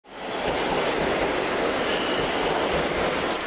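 A subway train runs steadily in a wide, loud rumble with faint clickety-clack of wheels and a brief squeal near the end, no voices.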